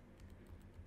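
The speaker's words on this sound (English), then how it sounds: "typing the password and enter button again" A password is tapped out on a computer keyboard, a short run of quiet, closely spaced key clicks ending in one firmer press, with no voices.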